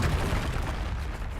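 An explosive spell cast in Hogwarts Legacy, a brief, dense, low rumbling boom that fills the moment at steady loudness, heavy in bass with a gritty crackling texture.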